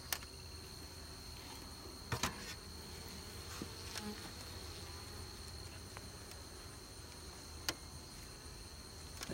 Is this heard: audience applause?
no